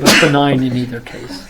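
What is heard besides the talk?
sneeze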